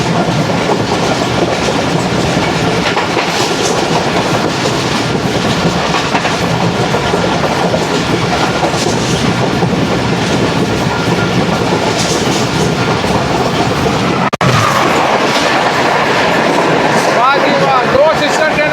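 Two Shalimar Express passenger trains, 27 and 28 Down, passing each other at dusk: a loud, continuous roar of wagons with steady clickety-clack and a sharp shift as the other train clears, with a voice talking underneath.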